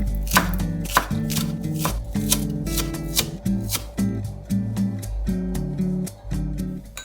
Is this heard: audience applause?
no